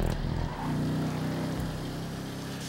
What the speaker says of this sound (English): I love the engine sound.